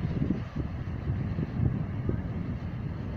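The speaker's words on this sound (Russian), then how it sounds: "ветер дует" Steady wind gusting across a seaside beach at Anapa on the Black Sea, a continuous low rumble buffeting the microphone with no one speaking.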